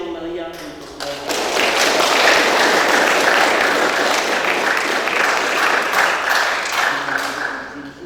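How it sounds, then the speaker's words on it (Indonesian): Lively applause breaks out for newlywed couple at a Batak and Javanese church wedding, sustained crowd clapping that starts abruptly after a brief voice and holds steady and loud throughout. "Mari kita memberikan aplaus yang meriah untuk mereka."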